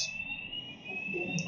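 An intermittent electronic fire alarm tone sounds steadily at moderate level, with a faint voice talking underneath in the background.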